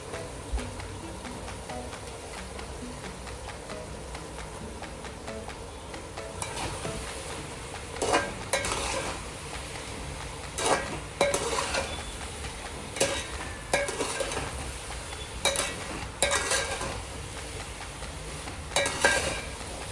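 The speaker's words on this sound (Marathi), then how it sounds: "आता त्यात शिजलेला भात टाकून परतून घेऊया" Cooked rice being stir-fried in a pan for homemade fried rice: a steady sizzle with repeated scraping and clattering strokes of a spatula against the pan, getting louder and more rhythmic in the second half.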